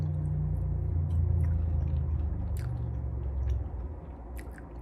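A bite of pecan pie is chewed close up, giving soft, moist squishing and faint crunching that runs steadily for about five seconds with no talking.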